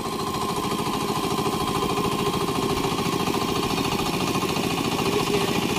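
A turtle tiller, a small walk-behind hand tractor, with its engine running in a fast, steady, rattling chug, loud and close throughout without pause.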